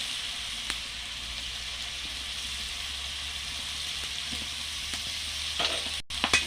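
Spices with cumin, coriander powder and salt fry in oil in a pan for a pumpkin seed dish, making a steady moderate sizzle with a few faint clicks and a short burst of stirring near the end.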